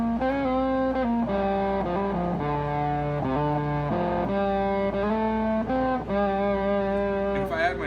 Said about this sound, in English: if you want distortion and overdrive, you don't want it to be super muddy